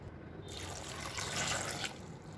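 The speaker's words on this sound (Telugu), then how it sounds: "ఇప్పుడు ఇందులోకి సరిపడా వాటర్ పోసుకోవాలి" Water is poured into a pot of dal with ginger paste and turmeric while making tomato cucumber dal, a faint steady trickle and splash heard close up without any talk.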